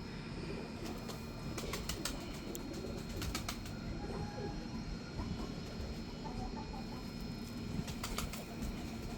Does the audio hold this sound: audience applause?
no